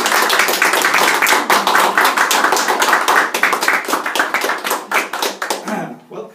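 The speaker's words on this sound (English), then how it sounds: "And a round of applause." Applause and claps for an award winner at a Valued Star Award presentation, a steady burst of close, fairly loud hand claps running several seconds and tapering off at the end, with voices mixed in.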